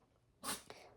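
A single short sneeze, fairly close and quiet, standing alone with a faint trailing breath after it and no speech.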